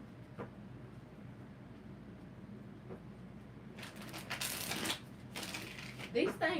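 Tarot cards being shuffled by hand, bursts of riffling and flicking rising in the second half, close and moderately loud over a faint room hum, with no talk.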